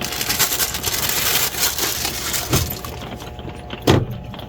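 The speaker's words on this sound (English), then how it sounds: "I can hear the sizzling." A taco frying in olive oil in a pan, a steady broadband sizzle with crackles running throughout, a couple of sharper pops near the end, heard close and moderately loud with no talking.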